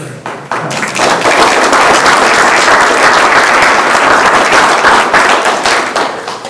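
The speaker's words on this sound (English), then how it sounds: "Round of applause for Mary Reister and" Audience applause at a candidates' forum in Fairborn, a dense, steady burst of many hands clapping that swells quickly, holds loud for several seconds and tapers slightly at the end.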